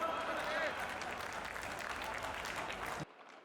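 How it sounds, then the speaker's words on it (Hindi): Audience applause at a Hindi poetry recital, a dense steady clapping from a crowd that runs for about three seconds and then cuts off abruptly. "ये तालियां बजाने वाली बात नहीं थी"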